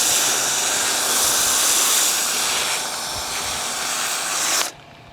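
An Earleas snow foam cannon, a $16.99 budget model, sprays soap foam with a loud, steady, close hiss that cuts off abruptly near the end.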